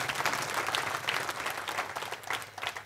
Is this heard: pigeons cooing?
no